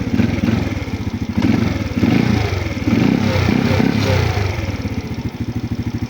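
A kick-started motorcycle engine runs steadily and close, its loud chugging idle pulsing and clattering in a rough, uneven rhythm with no voices.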